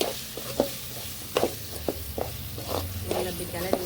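A spoon repeatedly scrapes and stirs chicken powder into egg gravy in a pan, over a steady background sizzle. Someone talks over the stirring.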